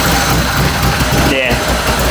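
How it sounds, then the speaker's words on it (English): A Can-Am machine with electrical faults runs roughly at idle, its engine droning loudly and unevenly up close, with a brief hissy burst partway through. "Doesn't run very good, but it's running."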